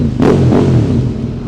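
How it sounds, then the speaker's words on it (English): A Ducati 848 motorcycle engine revs hard through an Arrow exhaust inside a short tunnel, with one loud, rising snarl near the start that holds as a sustained, echoing roar. No one speaks. "This Arrow exhaust system just sounds unbelievable."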